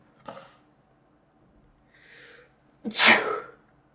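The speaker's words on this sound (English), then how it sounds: "I'm about to sneeze." A short intake of breath, a brief hiss, then one loud, close sneeze bursting out near the end, with quiet around it.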